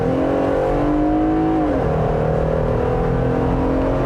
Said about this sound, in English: So the V6 is the one that really likes to be revved out.